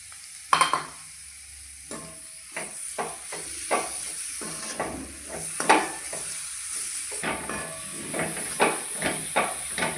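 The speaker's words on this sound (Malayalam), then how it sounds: "ഇനി നമുക്ക് ഈ സമയത്ത് നന്നായിട്ട് പഴുത്ത ഒരു തക്കാളി ചെറുതായിട്ട് അരിഞ്ഞത് ചേർത്ത്" Chopped ripe tomato frying with masala in a pan for Kerala-style egg roast, a steady sizzle and hiss broken by repeated scraping stir strokes, close and fairly loud with no talking.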